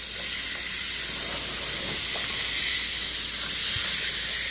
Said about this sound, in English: I don't want it to be like sizzling like this